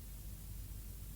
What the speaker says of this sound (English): the only other thing I have down here is this cassette noise